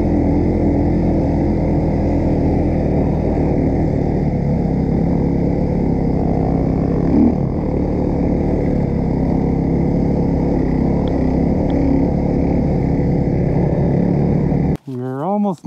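Snow bike engine droning steadily and loud throughout a climb up a snowy mountain in sunny weather, with voices talking over it and a brief drop near the end.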